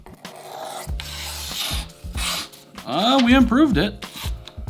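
A cheap $6 pocket knife is drawn across a low-cost sharpening stone in a few short, gritty rasping strokes, close and fairly loud, followed by someone speaking briefly.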